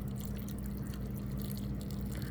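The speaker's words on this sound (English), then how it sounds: "just pour water into it up to that line" Water pours into an instant yakisoba noodle cup, a soft continuous liquid stream with faint droplet detail and a steady low hum underneath, quiet and unbroken for a couple of seconds with no talking.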